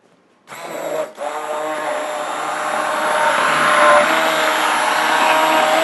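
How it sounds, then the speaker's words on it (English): Immersion blender whirring in a pan of potato and leek soup, switching on abruptly with a brief dip early, then a loud steady motor whine that grows slightly stronger as the soup is creamed. "I have an immersion blender, and I'm just going to turn it on, and I'm going to cream this"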